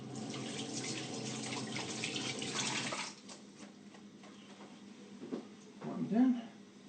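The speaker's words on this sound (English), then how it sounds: "give our hands a wash" Running water from a tap splashes steadily while hands are washed at a kitchen sink, fairly loud for about three seconds, then cuts off, leaving quieter handling sounds and a voice briefly at the end.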